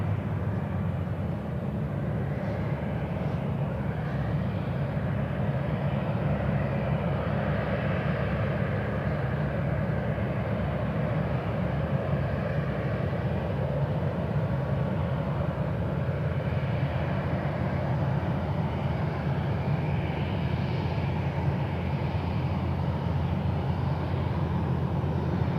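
A Cathay Pacific Boeing 777 arrives from Hong Kong at Sydney Airport at night, on final approach to runway 16 right. It gives a continuous low jet rumble and roar that holds steady throughout, heard from a distance on the ground.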